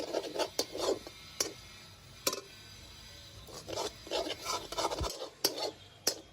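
Mutton keema mixture is stirred and scraped in a pan, a spoon rasping and clinking against the metal in irregular close strokes, with a faint low sizzle beneath.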